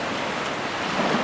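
North Sea waves wash in a steady broadband rush, with wind noise buffeting the microphone and no voices.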